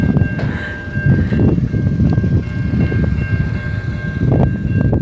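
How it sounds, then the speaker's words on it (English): A long freight train rolls past on the Canadian prairies, its wagons giving a continuous rumbling clatter with scattered knocks and a thin, steady squeal above, loud and close throughout. "I thought the train was going to the grain silos there"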